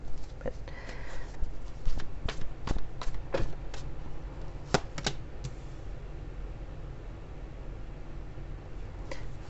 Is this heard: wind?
no